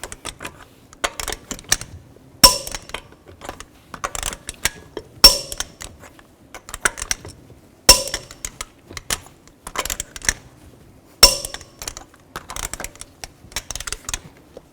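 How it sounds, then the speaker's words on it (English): A torque wrench tightens the lug nuts on a GMC Acadia front wheel to 140 foot-pounds in a star pattern, making close, rapid ratcheting clicks in short bursts. Each burst ends in a sharp snap, repeating about five times with no talking. "Now I'm going to torque these lug nuts to 140 foot-pounds in a cross pattern or a star pattern"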